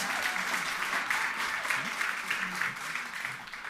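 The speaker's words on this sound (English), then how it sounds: "And another round of applause for all of the graduates who've just come up there now." Sustained applause from a graduation ceremony audience for business, hospitality and information technology graduates, steady dense clapping throughout with faint voices underneath.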